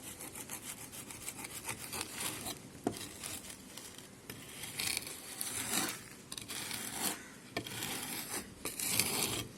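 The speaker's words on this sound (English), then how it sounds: "Now this excess sand has to be striked off." Excess moulding sand being struck off a moulding box with a straight edge, a steady scraping, rubbing rasp that runs continuously at close range, rising and falling in strokes with no talk.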